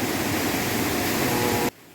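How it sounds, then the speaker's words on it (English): Sewage sludge being aerated in a treatment plant tank, a loud dense rushing churn of bubbling water, steady throughout and cutting off abruptly near the end. "So here, this sludge now is being aerated"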